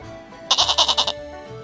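A goat bleats in a quick, wavering burst of about five pulses, loud and close, with silence before and after; farm animal sound for children's learning.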